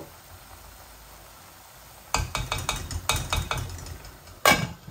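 Spices and chillies fry in oil in a pan: a quiet hiss gives way to a cluster of sharp sizzling crackles and utensil clinks, then a louder final clatter near the end.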